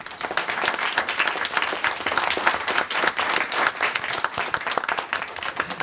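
A parish audience in a church bursts into sustained applause, many hands clapping densely and steadily throughout, fairly loud and close, with no voices standing out.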